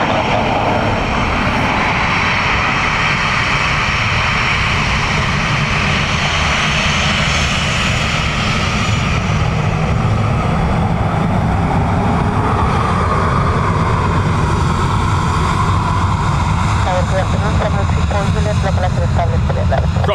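A Swiss passenger jet lands on runway 28 left at Dublin Airport, its engines a loud, steady roar that fills the whole stretch, with faint voices underneath.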